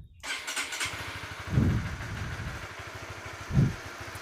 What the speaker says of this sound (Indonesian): ini keadaan netral kita hidupkan motornya